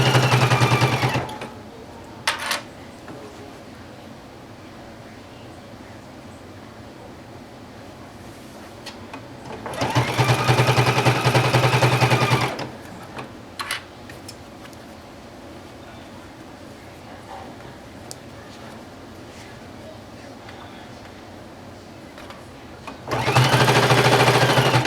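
A sewing machine stitches a patch onto the sleeve of a letterman jacket in two bursts of rapid, even whirring of a couple of seconds each, separated by quiet stretches with light handling noises, and a third burst begins at the end.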